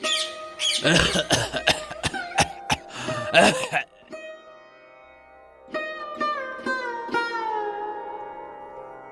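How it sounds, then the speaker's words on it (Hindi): Several harsh coughs in quick succession up close, followed by quieter raspy throat sounds. "आपको फिर से खांसी हो रही है"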